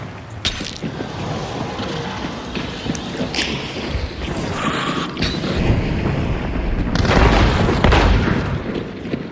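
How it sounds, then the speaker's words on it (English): Shotgun blasts in the video game Hunt: a few loud, sharp booms stand out over a busy, rumbling game soundscape of creaks and mechanical clatter. "you hear the shotgun here"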